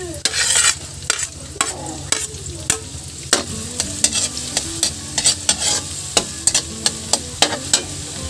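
Garlic frying in melted butter in a pan sizzles steadily while a utensil stirs it, with regular sharp scrapes and taps close up and no talking.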